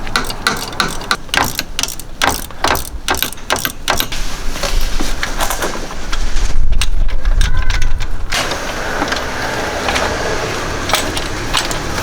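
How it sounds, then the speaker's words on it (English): A wrench ratchets in rapid repeated bursts while removing a pulley on a BMW 335i N55 engine, loud and close, with a heavier grinding stretch partway through before the clicking resumes. "Let's first remove the pulley and put your wrench in there."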